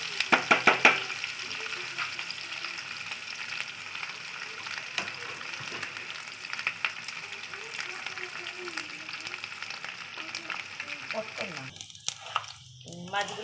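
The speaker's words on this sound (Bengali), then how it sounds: "তো মাছটাকে ভালো করে ভেজে নেব।" Dried fish fries in a pan with steady oily sizzling and crackling throughout, close and fairly quiet, with a few louder spits and stirring clatter near the start and end.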